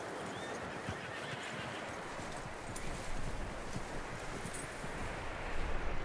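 In Red Dead Redemption 2, a horse whinnies and snorts while hooves clop on the ground, with a low rustling wind in the background and no talking.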